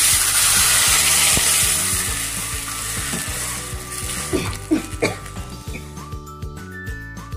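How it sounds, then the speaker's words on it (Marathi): Water boils vigorously in a pan for Maharashtrian peanut chutney, starting with a loud, close hissing sizzle that eases into irregular bubbling pops and gurgles. "उकळी चांगली फुटलेली आहे"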